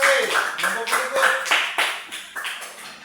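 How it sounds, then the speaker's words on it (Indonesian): Applause for Lukas's group in a classroom, a burst of hand clapping from several people with voices mixed in, fading over about three seconds. "berikan tepuk tangan untuk Lukas"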